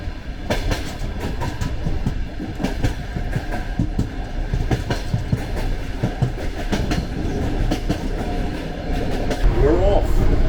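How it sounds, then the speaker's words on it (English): A train on the Georgian railway rolls along with a steady, dense clickety-clack of wheels on rail joints and a rumbling carriage interior. A brief squeal comes near the end. "We're off on the Georgian railway."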